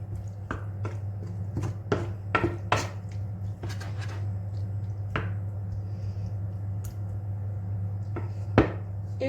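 Mushrooms seasoned with a pinch of salt are stirred in a cooking pan, giving a series of sharp, close clacks and scrapes of the utensil against the pan over a steady low hum, with no talking.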